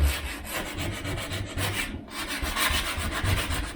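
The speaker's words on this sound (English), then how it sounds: "so now I'm gonna sand it" Dried wood filler on a timber floor being sanded, a steady close rasping rub with rhythmic back-and-forth strokes and a brief pause midway.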